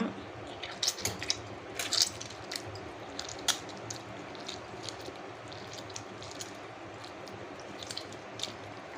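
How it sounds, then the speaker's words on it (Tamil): A tomato squeezed by hand over a cooking mixture, giving soft wet squishes in irregular bursts that are close and fairly quiet. "ஒரு தக்காளி இந்த மாதிரி பிழிஞ்சிக்கலாம்"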